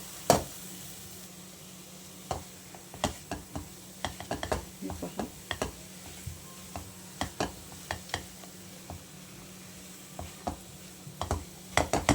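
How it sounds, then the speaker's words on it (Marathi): Milk being stirred and sautéed in a pan with wheat flour for laddoos, giving a low steady sizzle broken by scattered scraping spatula strokes, close and moderately quiet, with no talk. "मी अर्धा कप दूध घालते आपल्याला हवं तेवढं आपण त्या प्रकारे घालणार आहे छान परतून घेऊ"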